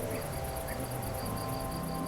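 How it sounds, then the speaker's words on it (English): Crickets chirp steadily in the New City video game, a dense, continuous insect chorus with regular pulsing chirps over low ambient background noise, no voices. "We got some crickets."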